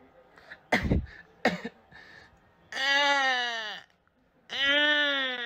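A baby's few sharp coughs, followed by two long wavering bleat-like cries with strong harmonics, close and fairly loud.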